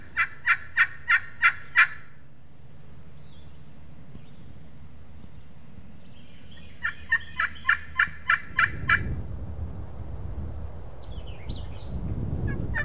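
Wild turkeys in an Alabama farm field, two toms with a hen, give two bursts of rapid gobbling, each a run of about six sharp, rattling calls at moderate distance, separated by quiet, with low wind rumble afterward.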